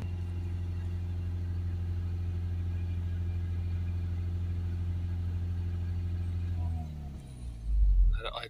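A Ford Transit diesel van engine idles with a steady, close low rumble, then drops away and gives a brief rev near the end.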